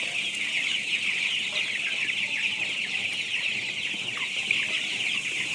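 A flock of Sonali-breed chickens clucks and murmurs continuously under a steady high-pitched chorus of insects or chicks, with no voices.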